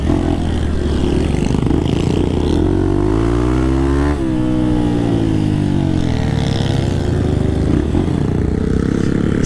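A brand-new Honda Bros 160 motorcycle engine revs near a river crossing on a trail, loud and close, rising and falling in pitch with a dip midway and continuous throttle roar, no speech.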